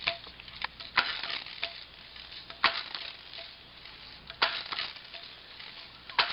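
A Crosman 2100 air rifle is pumped up, with about four sharp stroke sounds spaced a second or two apart over a quiet, close background.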